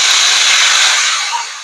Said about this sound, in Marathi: कुकरच्या इथे 3 शिट्ट्या झाल्यानंतर गॅस बंद करणार आहे मी